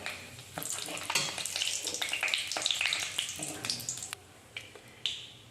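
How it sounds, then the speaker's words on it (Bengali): Whole garam masala and bay leaves frying in oil, a light bubbling sizzle with sharp crackles and pops, close but fairly quiet, tapering near the end, no speech. "তেলের মধ্যে গোটা গরম মশলা আর তেজপাতা"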